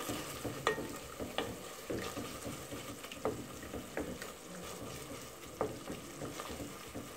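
A spoon stirs a mixture of sardines, peppers and cumin in a pan with soft, repeated scrapes and taps over a gentle, continuous sizzle, heard close with no voices.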